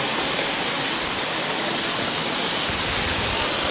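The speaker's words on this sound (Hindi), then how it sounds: "सूखे पड़ने कारण पानी की मात्रा जो झरनों से गिर रही है काफी धीमा गिर रही है" A steady, dense roar of falling water fills the whole stretch, constant and broadband like a nearby waterfall, with no voices. Tanda Waterfall in Mirzapur, Uttar Pradesh, flowing low during a dry spell.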